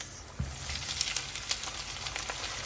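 Onions going into a pan of golden-fried garlic, a steady close sizzle and crackle with a few sharp pops, no voices.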